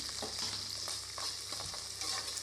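Onions and curry leaves fry in coconut oil with a quiet, even sizzle while a spoon stirs and scrapes the pan in soft, repeated strokes.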